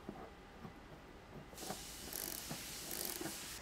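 Ratchet wrench with a 20 mm socket turning the threaded tow hook shaft into a 2015+ Ford Mustang S550, a few close clicking bursts over steady hiss in the second half.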